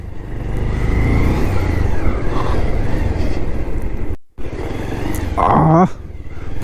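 A motorbike engine drones steadily while riding along a forest road, loud and close with wind rush, dropping out briefly near the end.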